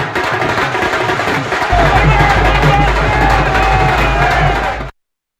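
Large crowd at BJP headquarters during Delhi election results, a dense, loud roar of cheering and shouting with a heavy low rumble, continuous until it cuts off.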